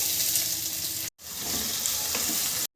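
Onions sizzle in two spoons of oil in a kadai, a bright continuous crackle with stirring, broken by two short silent gaps.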